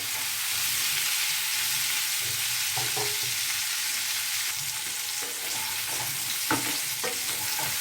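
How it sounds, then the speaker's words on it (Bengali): Potato pieces sizzle steadily in hot oil in a pan while being fried for aloo dum, with occasional scrapes and clicks of stirring rising over a constant, close, fairly loud hiss. "আলুগুলোর গায়ে হালকা লাল লাল রং ধরা অবধি আমি একটু ভাজবো"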